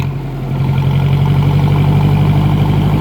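A 2010 John Deere tractor engine idles steadily up close, a low continuous rumble with a strong droning hum that holds even throughout, with no talk over it.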